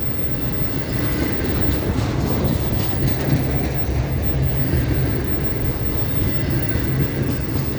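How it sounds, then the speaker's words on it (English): A long freight train rolls past close by, a continuous loud rumble and rattle of wagons with faint clickety-clack, steady throughout. "Look at the size of this train, oh my God."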